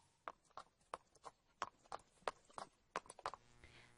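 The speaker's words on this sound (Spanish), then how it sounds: "vio un caballo que se acercaba" Horse hooves clip-clop at a steady walking rhythm, heard alone as a radio drama sound effect, faint but distinct, about a dozen hoofbeats.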